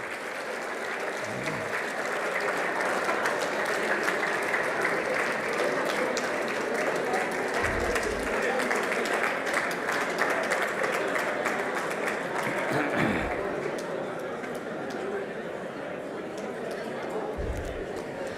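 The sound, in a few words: audience applause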